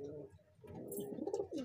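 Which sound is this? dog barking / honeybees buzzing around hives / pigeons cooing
pigeons cooing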